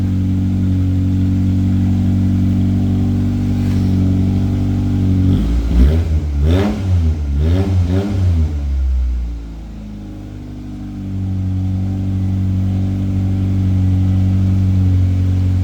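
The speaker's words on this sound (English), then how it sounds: "Can you rev it a little bit?" Modified Toyota Starlet engine idling indoors with no load, then revved in a few quick rising blips before settling back to a loud, steady idle close by.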